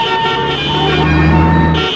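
Loud road traffic with a long, sustained car horn blaring over the steady rumble of engines.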